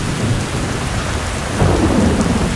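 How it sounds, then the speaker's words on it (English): Steady heavy rain with thunder rumbling during a squall on open water, a dense continuous roar that swells slightly halfway through, with no voices. "I'm a little worried about the squall line."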